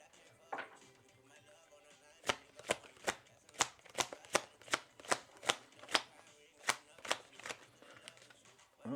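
Tarot cards are shuffled and drawn, giving a quick run of a dozen crisp riffling snaps in a steady rhythm, close and fairly quiet, with a voice speaking briefly around them.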